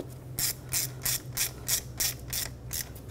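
A ratchet snugging down a spark plug on a 2004-2009 Audi A4 Quattro 2.0L four-cylinder, eight quick rhythmic clicking pulls close up, no speech.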